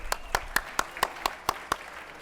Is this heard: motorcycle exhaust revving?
no